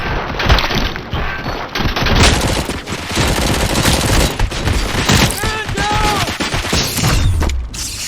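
Gunfire and mechanical clatter in the RoboCop: Rogue City video game, dense loud rapid bursts over a busy, chaotic in-game soundscape without pause.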